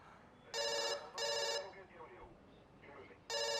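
A telephone bell rings in bursts, three loud electronic trills with gaps between them, near and clear, with a voice speaking faintly between the rings.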